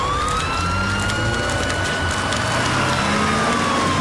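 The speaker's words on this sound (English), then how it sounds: "Ambulance coming through." An ambulance siren wails through a busy street scene, its rising and falling tone sounding continuously over a dense background of crowd and traffic noise.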